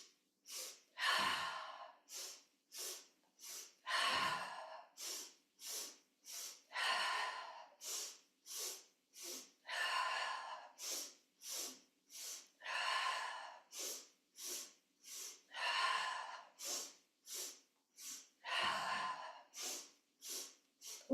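Deep yoga breaths in a guided class: a long run of slow, even inhales and exhales, close and clearly audible, each breath a soft airy rush separated by short silences, a few ending in heavier nasal exhales.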